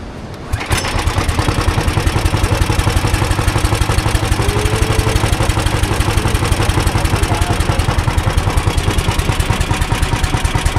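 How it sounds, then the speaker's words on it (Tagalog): A boat engine is cranked over and then runs, settling into a loud, steady, rapidly chugging idle with a dense mechanical clatter that continues unbroken and close by. "Magpapaandar ng makina."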